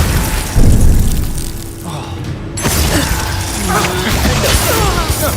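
A Bombarda-style spell blast in the video game Hogwarts Legacy, a loud booming crash with mechanical clatter and rumbling debris, surrounded by shouted in-game voices.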